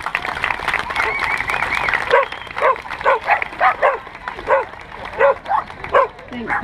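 A dog barks and yips repeatedly in quick bursts, fairly close, over applause and crowd noise at an outdoor gathering, with someone speaking nearby.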